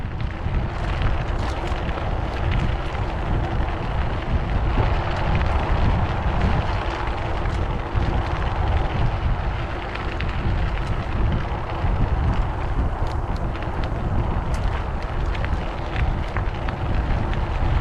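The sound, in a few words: wind blowing, wind noise on microphone while cycling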